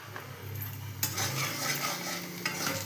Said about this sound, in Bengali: এটাকে একটু সামান্যভাবে একটু মিলিয়ে দিলাম